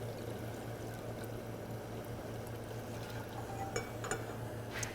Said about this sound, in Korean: 냄비에 물을 올려주시고요